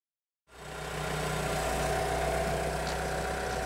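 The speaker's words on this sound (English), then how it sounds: "This forklift is going to pick up my new tank, and it's going to put it right up there" A forklift engine starts up and settles into a steady idle, a low droning hum and vibration that holds evenly after a brief silent start.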